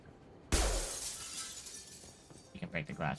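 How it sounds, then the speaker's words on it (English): Glass smashes loudly in the video game Mass Effect 2, a sudden sharp shatter followed by a trailing tinkle of shards, then a person starts talking over the fading debris. "You can break the glass."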